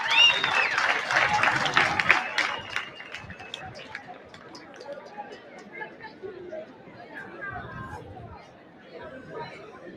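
Audience in a school hall at a 60th anniversary celebration applauding a long-serving head teacher's award, a dense burst of clapping that fades into scattered claps and crowd chatter.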